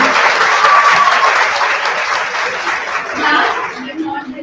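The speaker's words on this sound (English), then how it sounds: "A huge round of applause for each one of you." An audience at the valedictory session of a genome project celebration gives sustained applause that gradually thins, with some laughter and voices talking as it fades near the end.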